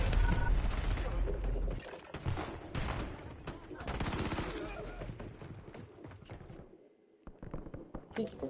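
Gunfire crackles in dense, rapid bursts during a Call of Duty Warzone match. Automatic fire and mechanical clatter are loud at first, then thin out and break off before a few scattered shots at the end.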